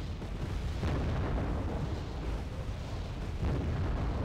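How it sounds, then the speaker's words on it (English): Rocket strikes from an attack helicopter slam into a stretch of woods in Wargame: AirLand Battle, a steady rumbling barrage of muffled booms and bursts rolling on without a break, dense and heavy, with no talk over it. "I'm gonna fire at the woods with my rockets."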